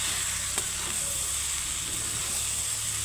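Steady hiss and sizzle of jackfruit and onion frying in a pan, a continuous even crackle with a faint tap near the start, no voice over it.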